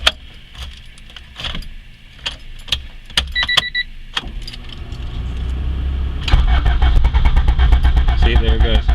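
A 400 hp Honda Civic race car engine cranks and fires up, a loud broadband roar building and holding steady near at hand, preceded by jangling keys and clicks as the ignition is worked.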